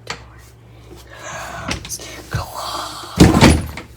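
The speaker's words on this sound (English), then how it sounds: "Close closet door." A closet door is pushed shut with a few scraping movements and soft thuds before a louder closing thunk near the end, close by and alone.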